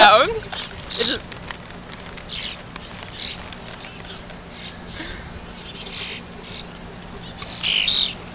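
Starlings call in a park, giving scattered high chirps and squawks against a steady outdoor background while people talk nearby.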